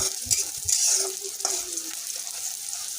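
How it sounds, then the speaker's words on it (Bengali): Chopped onions fry in a pan until light brown, giving a soft close sizzle broken by several spatula scrapes and clunks against the pan, fairly quiet and with no talking. "আগে পেঁয়াজগুলোকে একটু হালকা ব্রাউন কালার করে ভেজে নিব"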